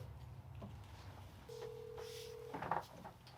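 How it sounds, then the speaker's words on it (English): A phone being dialed for a work call, a steady tone held for about a second followed by a short burst of button beeps, quiet and close with no talking. "I'm going to make a couple phone calls"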